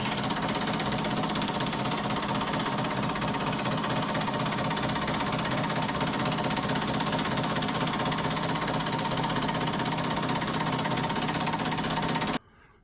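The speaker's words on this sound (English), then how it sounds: "he basically created a very similar profile and then just run it through this power hammer" A power hammer pounds a car door panel for a 1965 Chevy in rapid, continuous, loud close-up strikes that run for about twelve seconds before stopping abruptly.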